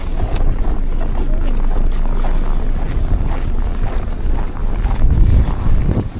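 Strong wind during snowfall in Barrie buffets the microphone in a steady, low roar, with gusts swelling louder near the end.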